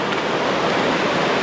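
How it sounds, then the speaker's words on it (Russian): Small waterfall on the Zambatsai stream in Uzbekistan, a loud, close, continuous rushing roar of falling water with no talk. "ну вот еще один очередной красивый водопад"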